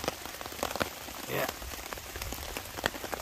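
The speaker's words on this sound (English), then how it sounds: "it's 3 o'clock in the morning, still raining." Rain patters steadily on a hammock tarp at night during a storm, dense close drips and taps with a few louder splats, while a voice briefly speaks.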